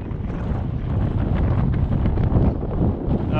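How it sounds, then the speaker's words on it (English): Strong gusty wind buffets the microphone during power-kiting on inline skates outdoors, a continuous low roaring rumble that dominates the scene with no clear speech. "Wow, this wind is terrible."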